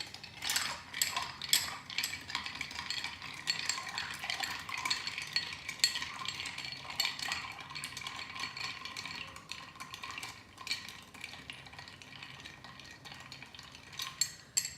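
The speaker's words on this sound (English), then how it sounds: "So we're going to stir both of these now." Sazerac cocktail ingredients being stirred make a quiet, rapid, continuous rattling and clicking that runs steadily throughout with small surges.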